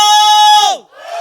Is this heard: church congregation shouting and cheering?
yes